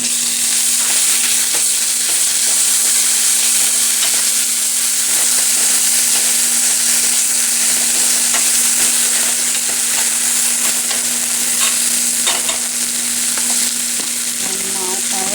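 Onion and garlic paste fry in a pan while being stirred for potatoes with capsicum, a loud, continuous sizzle and hiss with occasional scraping and spattering up close.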